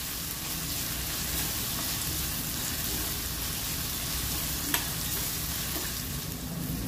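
Onion fries in a pan with a loud, continuous sizzle and crackle that stays steady throughout, and one small clink partway through.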